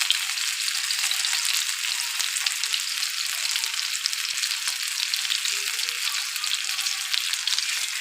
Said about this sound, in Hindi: अब हम ये चारों ओर से इसे पकाएंगे।